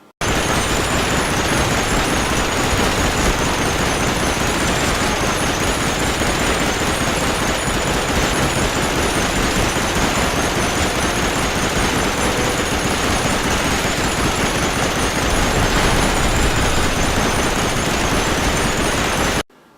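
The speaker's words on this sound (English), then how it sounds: "find a machine gun just as a bunch of enemies and a tank enter the courtyard" Sustained machine gun fire rattles nonstop at loud, close range in the World War II shooter Medal of Honor Rising Sun, with a tank and enemy soldiers in a courtyard adding a dense, unbroken roar of combat.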